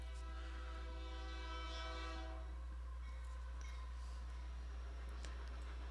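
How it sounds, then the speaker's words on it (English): A train passing by and sounding its horn, a long steady tonal blare layered over a constant low rumble, somewhat distant and muffled, with no voices. "the train is going to go by"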